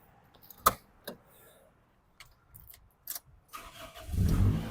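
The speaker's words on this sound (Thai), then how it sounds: "รถสตาร์ททีเดียวติดนะครับ" A few clicks and knocks, then a Toyota Corona Exior car engine cranks and catches on the first try near the end, settling into a loud, close rumble.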